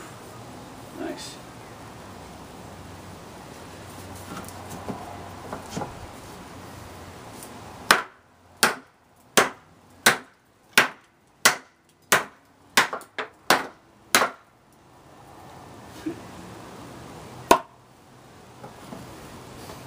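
A CRKT Redemption knife chops into wood with about ten sharp, evenly spaced whacks up close, plus a single later strike, and speech is heard before and after the chopping.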